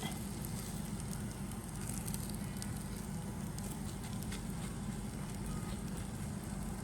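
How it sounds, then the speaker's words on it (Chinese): Salted vegetable flatbreads, filled with five-year crock-pickled greens, fry in a pan over low heat with a steady, moderate crackling sizzle and soft patter that runs evenly throughout without talk. "下锅煎。"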